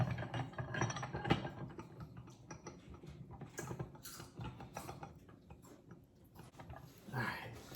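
A hand-cranked sausage stuffer holding about five pounds of sausage meat, fitted with a 19 or 21 millimetre stuffing tube, gives quiet mechanical ratcheting and gear clicks with irregular knocks and clatter close by in a home kitchen.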